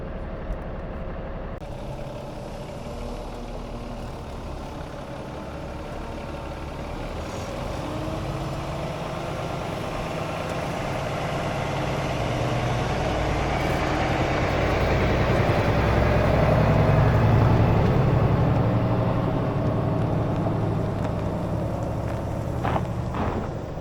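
A blue Peterbilt semi truck drives along with its steering wheel bungeed in place, its engine a steady low rumble and road roar that swells slightly midway, continuous and close with no talk.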